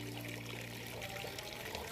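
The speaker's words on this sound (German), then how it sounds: "Und hier sieht man einen Brunnen." Water from a forest spring fountain on a hiking trail runs in a steady splashing stream, close and continuous with no pauses.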